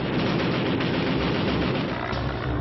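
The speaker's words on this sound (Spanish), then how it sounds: "La mayor ventaja del Sky Raider es su armamento. 4 cañones M3 de 20 milímetros." Four M3 20 mm cannons on a Skyraider attack aircraft fire in a continuous roaring burst, a dense, loud, unbroken rattle with no pauses.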